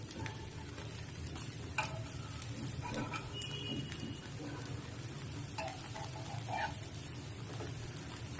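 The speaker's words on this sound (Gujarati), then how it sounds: "હવે થોડું થોડું આપણે સાઈડ ઉપર તેલ લગાવી લઈશું. હવે તેને પલટાવી લઈશું આપણે." Puffed rice snack frying in a little oil in a pan, a steady close sizzle and crackle running throughout with a few soft scraping and tapping sounds as it is turned over.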